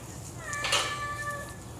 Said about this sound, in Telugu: అదిగో మా పిల్లి ఇప్పుడే వచ్చింది అరుస్తుంది